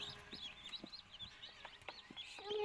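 High, thin peeping calls from young birds chirp repeatedly in quick, irregular bursts, close by over a faint background hiss.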